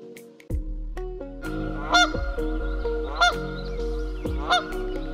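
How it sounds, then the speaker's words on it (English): A goose honks loudly several times, sharp nasal calls spaced about a second apart over a low steady hum, with no voices. "Goose is a large bird with loud, honking sound."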